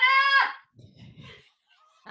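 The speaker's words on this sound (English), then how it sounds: "I am hearing the chickens now, Samantha." A chicken outside a window lets out one loud, harsh squawk, followed by quieter low clucking and rustling that fades away.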